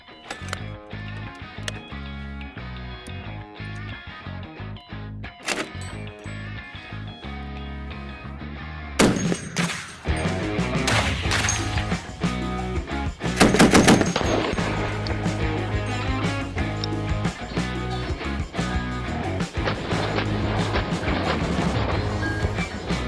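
A 12.7 mm .50 BMG machine gun on a Ukrainian-built mount firing at an Acer Enduro Urban N3 rugged laptop, with loud repeated heavy shots and sharp bursts over ringing background tones.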